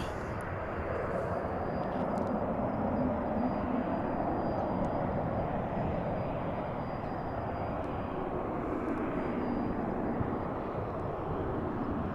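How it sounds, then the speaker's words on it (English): An American Eagle Embraer 175 jet airliner at DFW International Airport gives a steady, broadband roar throughout, moderately loud and continuous with no talk. "That was American Eagle Flight 3881 from Des Moines, Iowa on that Embraer 175."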